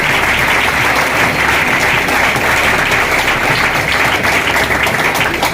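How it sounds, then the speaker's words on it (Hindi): Loud, sustained applause from a crowd, steady clapping filling the space without a break. "आपके लिए एक जोरदार तालियां होनी चाहिए आपके लिए"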